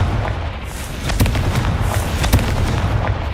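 The Confringo fire spell goes off in Hogwarts Legacy, a string of sharp loud blasts and booming bursts repeating irregularly over a rumbling game backdrop.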